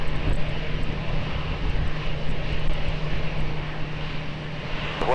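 Boeing 777 rolling down the runway at Lisbon Airport, a steady, loud roar of jet engines with a constant low hum running throughout, no voices over it.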